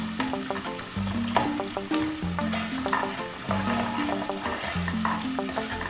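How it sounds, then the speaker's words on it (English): Onions frying in hot oil with steady sizzling, overlaid by repeated rhythmic scraping strokes of a spoon stirring the pan, close and fairly loud with no talking. "So stir, stir, stir."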